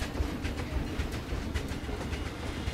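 Coaster train rolling along its track in a park-building video game, a steady dense rumble with faint rhythmic clatter running throughout, heard alone.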